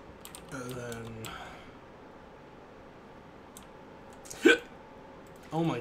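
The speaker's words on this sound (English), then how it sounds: "Oh my gosh, hiccups." Hiccups sound during a Minecraft session, with a short sharp hiccup standing out near the end amid faint keyboard clicks and quiet room noise, partly under brief murmured talk.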